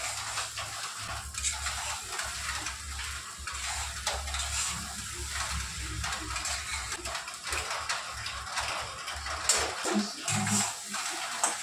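Sabudana khichdi being stirred and fried in a pan, a soft continuous sizzle with scraping of the spatula and occasional light clinks of utensils, fairly quiet and close.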